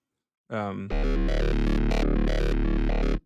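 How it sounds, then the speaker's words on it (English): Square wave bass from the UVI Rumble synthesizer plugin, a loud buzzy sustained tone with a steady sub note and a rhythmic sequence of pulsing notes above it, heard alone. "So there's a sub or a square wave here right now."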